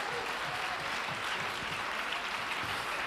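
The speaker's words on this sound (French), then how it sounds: "Yeah, clap for them." A church congregation claps throughout at a worship gathering, a dense, even patter of many hands that sounds somewhat distant and soft, with no break.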